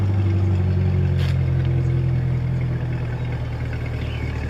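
A new car's engine idles close by with a steady low hum and a faint brief click partway through, with no talking.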